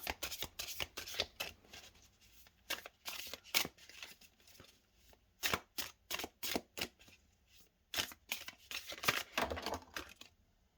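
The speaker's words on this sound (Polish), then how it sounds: "karty mi się posypały" Tarot cards spill and slap down onto a surface in quick, papery bursts: sharp flurries of riffling and flicking separated by short pauses, close and crisp.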